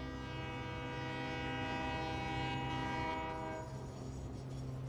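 A steady, loud train horn from the Satisfactory video game sounds continuously over a low rumble of rolling rail cars, fading slightly toward the end.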